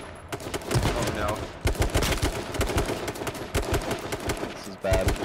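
Rapid bursts of gunfire in the battle royale game H1Z1, sharp repeated cracks in clustered volleys with brief gaps between, loud and close, with voices talking intermittently over the shooting.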